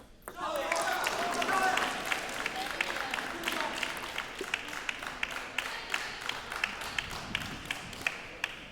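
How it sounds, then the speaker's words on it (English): A crowd at a college table tennis final claps in a dense burst that settles into scattered rhythmic claps and ball-like taps, with voices talking faintly underneath. "The Wesleyan crowd is getting rowdy."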